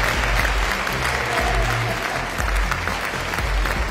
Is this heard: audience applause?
yes